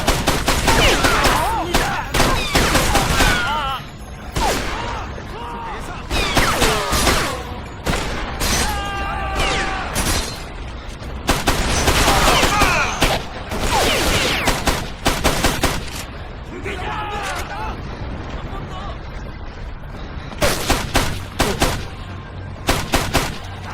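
Heavy suppressive gunfire in the video game Ghost Recon 2, with dense overlapping automatic bursts and shots, loud and continuous throughout, and occasional shouted voices in the mix.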